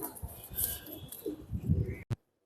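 A Surma Khaki pigeon gives soft, low cooing close by, a few throaty murmurs that stop abruptly.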